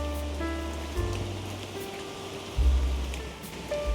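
Rain falling on a garden of melons, pineapples and sweet potatoes, a steady patter of drops with some low thumps and faint background tones, no talking.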